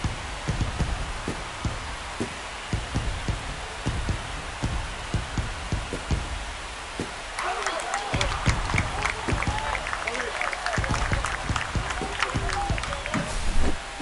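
A large crowd in the baseball video game MLB The Show 25 roars and cheers continuously, swelling louder midway, with a dense wash of noise like a packed stadium.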